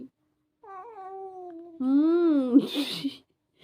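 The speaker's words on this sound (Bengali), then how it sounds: "আয় মিনি বিড়াল, মিনিকে ডেকে খাইয়ে দিই সব" A house cat meows twice at close range, a short mew followed by a longer, louder drawn-out call that rises and falls, with a little rustle after it and no talking.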